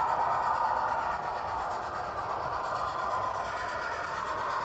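A Scotsman model locomotive running on a loft layout, giving a steady, even rail rumble with a dense wheel rush that holds at one level, close by and with no talk over it.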